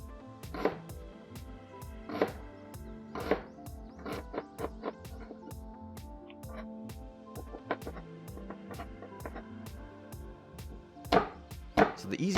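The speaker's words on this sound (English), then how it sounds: "just make slices down the length of the onion and start chopping." A knife chops onion on a cutting board with rapid, steady close taps in a continuous rhythm, a few heavier knocks mixed in, no talking.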